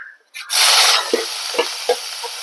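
Onion dropped into hot oil with curry-tempering lentils and dried red chillies for a beetroot thoran, bursting into a loud, bright sizzle after a brief quiet start, with a few spoon knocks against the pan as it fries on.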